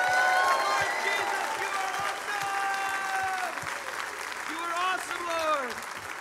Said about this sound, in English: we're just going to applaud to worship our Savior